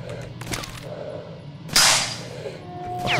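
Enemy gunfire in STALKER: Shadow of Chernobyl, a few sharp, cracking shots at irregular intervals, one notably loud and close with a bright ringing tail, over low background ambience.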